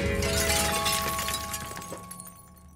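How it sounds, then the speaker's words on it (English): Glass window shattering as two men crash through it, a dense burst of breaking glass that tapers off into scattered tinkling fragments over a few seconds, close and loud. "Then Lottie screamed as both men crashed through the window."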